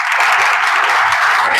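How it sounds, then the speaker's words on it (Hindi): A class audience claps together in a short burst of dense, even applause, loud and close, with no voices over it. "ताली बजा दीजिए।"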